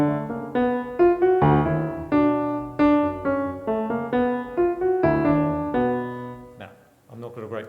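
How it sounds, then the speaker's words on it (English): A short tune plays on an upright room piano that is not in great shape. Single notes and chords sound close by in a lilting rhythm, and the last notes ring out and fade. "came up with this little thing, which I'll play on this piano"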